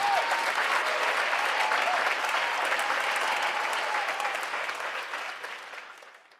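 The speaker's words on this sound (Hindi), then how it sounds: "मेला तालियों से गूंज उठता है।" Crowd applause at a village fair: dense, steady clapping from many hands that holds evenly, then gradually fades away toward the end, with no voices.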